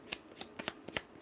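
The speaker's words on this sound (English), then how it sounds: "One more shuffle for Leo." Tarot cards being shuffled during a full moon reading, heard as a quick run of six or seven crisp riffling bursts in an irregular rhythm, close and fairly quiet, with no talking over them.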